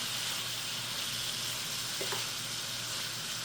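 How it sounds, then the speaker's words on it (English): Beef browning in a pan for stroganoff, a constant close sizzle and hiss of frying meat with a faint tap or two from a utensil and no talk. "My meat here browned beautifully."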